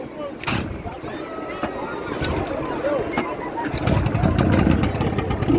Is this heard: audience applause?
no